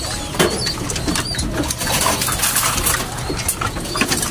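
Racing pigeons coo steadily while jostling over food in a loft after a hard race, a dense overlapping chorus of soft throaty coos with occasional wing flutters and scuffs, close by and with no talk.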